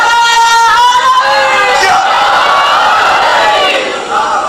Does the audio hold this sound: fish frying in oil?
no